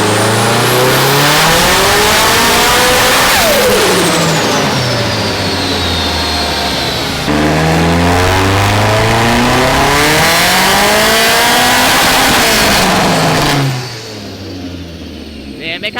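A built car engine revving hard on a dyno, loud sweeping rises and falls in pitch repeating across the run before dropping off sharply near the end, with voices talking over the roar.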